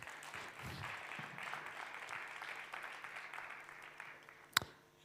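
Audience applause at a festival conference for a company co-founder being welcomed, a soft, fairly distant patter of many hands holding steady, with one sharper knock near the end.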